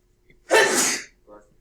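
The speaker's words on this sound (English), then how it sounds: "People always sneeze in threes." A single loud, close sneeze bursts out during a physics lecture on energy and work, followed by a short quieter sound a moment later.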